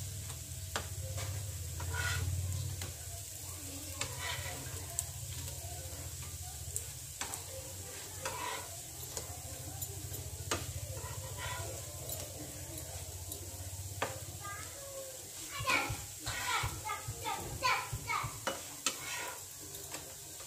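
Pieces of elephant yam fry in a pan with a steady crackling sizzle, joined partway through by scraping and clinking as they are stirred and turned, close-up and without voices.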